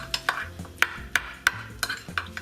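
Sour cream and fresh garden chives are stirred together in a bowl, with a spoon tapping and scraping in a quick, even series of about eight light clinks, close and fairly quiet, with no talking.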